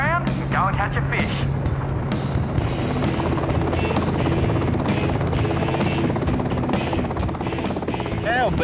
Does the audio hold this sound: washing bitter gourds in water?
no